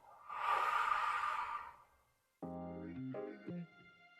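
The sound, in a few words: breathing during yoga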